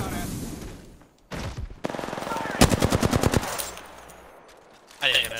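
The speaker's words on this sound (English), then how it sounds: "Getting shot at." Gunfire from the battle royale video game Apex Legends: a dense, loud automatic burst of rapid, evenly spaced shots preceded by scattered heavier reports, with game ambience and brief noise around it.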